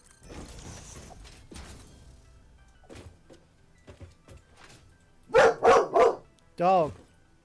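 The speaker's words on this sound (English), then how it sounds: "Dog." A dog barks four times in a quick, loud burst up close, following a stretch of a person talking with car-like background noise.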